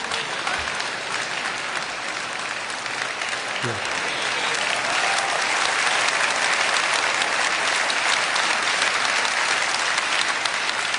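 Sustained applause from a Hall of Fame induction audience for NASCAR's Bud Moore, broad and steady throughout and swelling slightly louder in the second half, with no speech over it.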